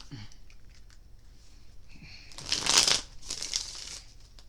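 Cards riffle and crinkle in a quick burst, followed by a softer second shuffle, close by with faint rustling before.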